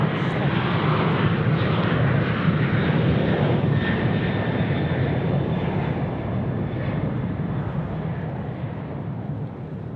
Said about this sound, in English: now we get another away on the runway closest to us